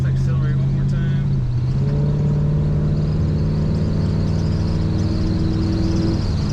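1966 Chevrolet Impala SS two-door hardtop engine accelerating, the V8 rising in pitch through a smooth rev after a brief dip, loud and close and heard alone.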